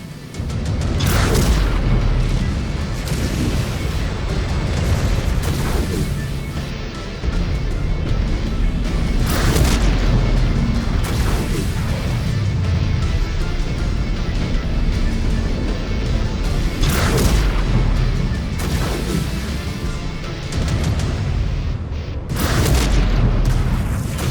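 Missile explosions in the video game MechWarrior 5: Clans, Ghost Bear Flash Storm DLC, heavy booming blasts landing repeatedly every few seconds over a constant low rumble, loud and close, with occasional voices mixed in.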